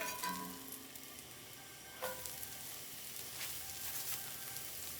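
Mushrooms sizzle in a dry cast iron pan, a soft steady crackle with a brief clatter about two seconds in, fairly quiet and without voices.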